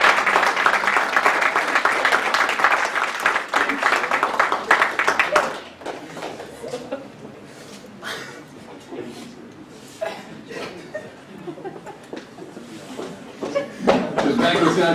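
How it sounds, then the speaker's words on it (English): A banquet room crowd at a men's soccer banquet breaks into loud, dense applause for Junior, with scattered chuckles and laughter; the clapping fades after about five seconds into murmuring and talk, with a brief swell near the end. "let's give Junior a round of applause"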